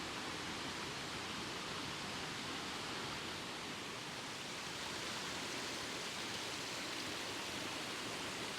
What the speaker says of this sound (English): We're now at the top of that series of cascading waterfalls